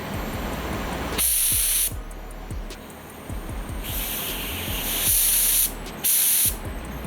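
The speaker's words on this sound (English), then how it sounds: "I would take the spray gun and I would press the trigger." Spray gun laying automotive base coat paint, a steady airy hiss in several bursts of about a second each, close and loud, separated by quieter pauses with faint background noise.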